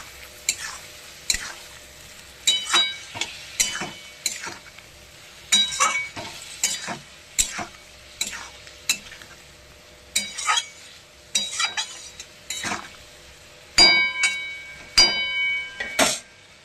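Potatoes and cauliflower frying in a pan, a spatula scraping and clinking against the metal in a steady rhythm over a soft sizzle, close up, no talking.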